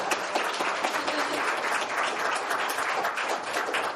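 Loud, dense audience applause at a university visiting writers Q&A as author Steve Almond is introduced, many hands clapping vigorously and evenly throughout.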